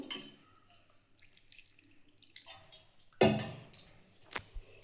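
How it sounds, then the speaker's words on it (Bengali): Water poured into a pan of cauliflower and potato curry, in short splashy bursts with quiet gaps, growing into a louder pour followed by a few sharp drips and knocks, close and without talk. "জল দিয়ে দিচ্ছি বন্ধুরা আমি একটু জল বেশি দেবো এটাতে"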